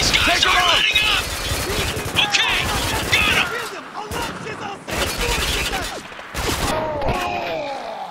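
Pistol and other gunfire in Spec Ops The Line, a string of sharp shots and crashing impacts in bursts, with an excited voice talking over the shooting.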